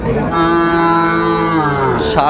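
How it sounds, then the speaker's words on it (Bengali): A cow lets out one loud, close, sustained moo at a busy cattle market in Raniganj, Dinajpur, where bull calves and heifer calves are being sold. A short noise follows at the end. "গরুগুলো"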